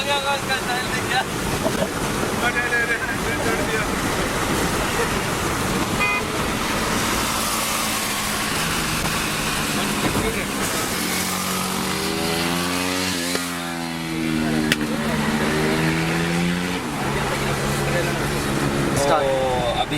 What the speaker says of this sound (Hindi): अभी प्रिंस और तनुज गाड़ी चला रहे हैं